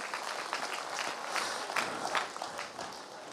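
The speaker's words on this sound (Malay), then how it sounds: "Tepuk tangan kepada anda sekalian" A large outdoor crowd at a Gaza solidarity rally applauds, a broad wash of many hands clapping with scattered sharper claps standing out, heard at a moderate distance and fairly quiet overall.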